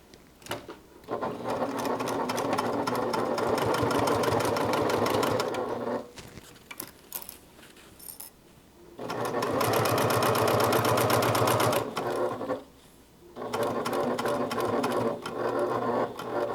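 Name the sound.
sewing machine stitching a seam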